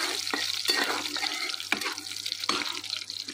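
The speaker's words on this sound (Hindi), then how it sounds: "थोड़े बादाम को मैं भून लेती हूँ" Almonds are dry-roasted on a tawa at home, stirred in soft, irregular rustling scrapes and rattles close by, with a faint steady hum underneath.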